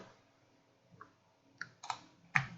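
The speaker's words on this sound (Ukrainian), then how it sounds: "Натискаю Insert на клавіатурі." A few light key clicks on a computer keyboard, including a press of the Insert key while working in 3ds Max, sounding as scattered soft taps that build to one sharper, louder click near the end, with no speech.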